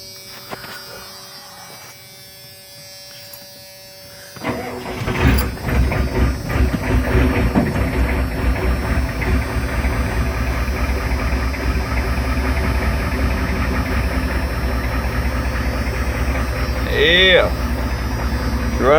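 A 1991 Ford F350 diesel cab-and-chassis truck cranks and starts after a quiet stretch, then settles into a steady, loud, clattering diesel idle close by, with brief voices over it.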